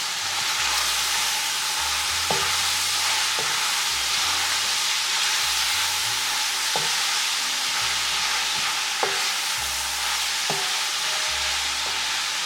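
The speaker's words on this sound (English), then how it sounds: "also going to be adding some garlic. Let that cook and stir." Garlic cooking in a pot, an even, loud hiss of frying with a handful of sharp spoon knocks against the pot spaced a few seconds apart as it is stirred, no voices.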